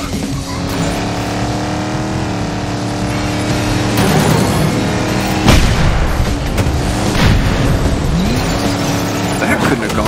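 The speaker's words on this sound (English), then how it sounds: "There go the bombs. And we got rockets in play." Bombs and rockets burst in the Cars 3 Driven to Win battle race video game on PS5, loud booms landing over continuous racing engine roar, with someone talking throughout.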